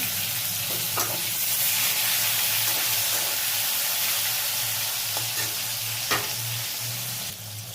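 Tomato hits hot oil already tempered with bay leaf and whole cumin, giving a loud, steady sizzle with occasional sharp spits and crackles. There is no talk.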